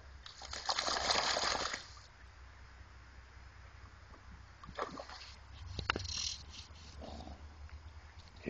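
A dog swims in open water early in the morning, with a burst of splashing and sloshing at the start, then quieter paddling and occasional splashes against a faint background hum.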